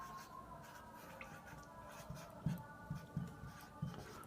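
A pen writes figures on paper while working out a civil engineering cost estimate, making a faint, soft scratching with a few light taps, quiet and close.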